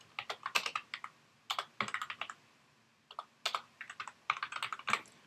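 A note title is typed on a computer keyboard in bursts of rapid, crisp key clicks with short pauses between them. The typing is close and clear with no talking.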